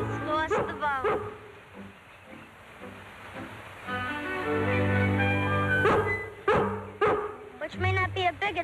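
A dog barks near a lake, with sharp repeated barks and yips and a drawn-out whining howl in the middle, fairly close, mixed with people talking.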